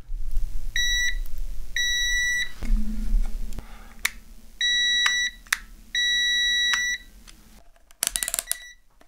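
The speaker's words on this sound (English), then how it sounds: "when we press the button, we should hear a beep" A continuity tester beeps while checking the button of a DIY sustain pedal for a MIDI keyboard: a run of sharp, high beeps, some short and some held, mixed with faint clicks in a quiet room.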